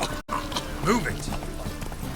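Geralt's horse Roach in The Witcher 3 video game gallops, steady hoof clip-clop running under a man's urgent spoken commands, with a brief dropout early on.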